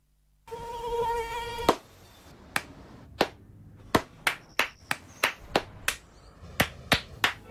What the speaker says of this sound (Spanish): No aplaudamos al mosquito